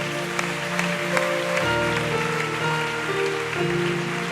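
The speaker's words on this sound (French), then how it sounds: "Acclamez très fort, c'est fait." A church congregation in Guadeloupe claps and cheers in a sustained, dense wash of applause, loud and continuous with no pause for the full stretch.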